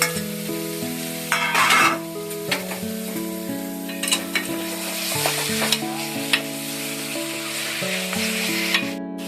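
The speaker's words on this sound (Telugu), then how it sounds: "ఇప్పుడు మటన్ యాడ్ చేసుకుందాం" Mutton hitting hot spiced tempering with turmeric and salt for a Telangana-style curry, a steady loud sizzle and fry with a bright burst as the meat goes in, plus scraping stirs and clinks of a ladle against the pan.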